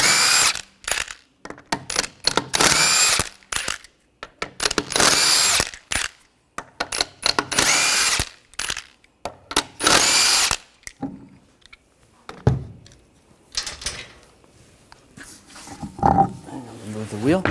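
A power tool fitted with a 21mm socket removes a wheel from a Nissan Rogue, loud whirring impact bursts repeated several times with short gaps, then quieter clanks and handling sounds near the end.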